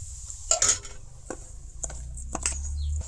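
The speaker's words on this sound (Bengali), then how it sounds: "সেম ওরকম করে মশলাটা মিশাই দিই দেখো একটু শুকনা শুকনা করিয়া খুব ভালো করে ওরকম মিশাইছি" A spoon scrapes and clinks against a container while dry spice mix for raw mango pickle is stirred, giving scattered close knocks and scratches over quiet background, with no speech.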